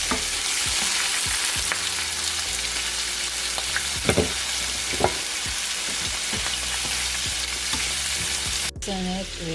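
Calamari and shrimp sizzle steadily in a hot pan for seafood palabok, a loud continuous fry broken by stirring scrapes and clacks, with no talking.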